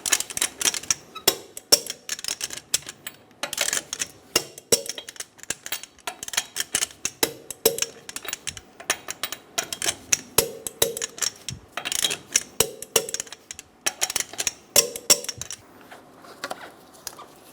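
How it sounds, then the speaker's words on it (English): A wrench tightens the lug nuts on a Toyota Tundra wheel to 83 foot-pounds in a star pattern, giving bursts of rapid, sharp ratcheting clicks separated by short pauses, close and fairly faint. "Torque your wheel in a star pattern"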